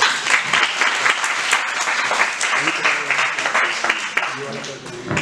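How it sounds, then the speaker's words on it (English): An audience at a Human Rights Day program gives a big round of applause, sustained clapping that fills the room and tapers slightly near the end, with some voices mixed in. "let's have a big round of applause"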